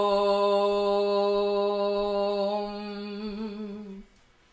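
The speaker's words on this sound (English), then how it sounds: "The word Om has 4 syllables" A single voice chanting a long, steady Om, held as one sustained rich tone that wavers slightly toward the end before cutting off. It is close and clear, with nothing else underneath.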